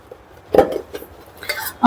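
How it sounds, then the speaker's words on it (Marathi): A steel storage container is handled inside a refrigerator during kitchen organizing, giving a few close, sharp metallic clinks and knocks separated by quiet gaps, with the loudest clatter at the end. "त्यानंतर हा स्टीलचा डब्बा आहे."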